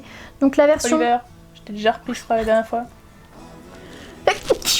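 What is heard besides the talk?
sneeze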